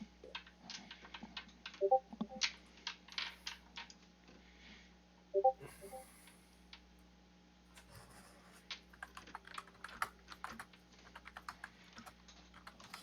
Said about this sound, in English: I'm typing in that I'm going to wait a few minutes longer